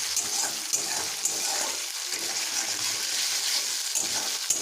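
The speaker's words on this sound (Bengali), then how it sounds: "পেঁয়াজটা হালকা একটু ভেজে নেব।" Onion paste frying in a pan with nigella seeds for a Bengali drumstick curry, a steady soft sizzle and hiss with faint scraping stirs, close and continuous without talk.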